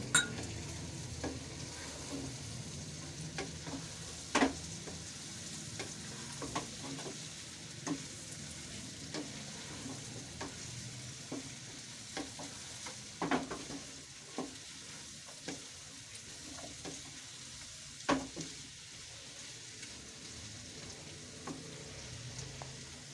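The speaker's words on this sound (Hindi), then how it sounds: "अब इनको हम भून लेते हैं।" Peas, carrots and cauliflower florets fry and crackle in a pan while being stirred, a steady close sizzle broken by sharp scraping clinks of the spoon at irregular intervals.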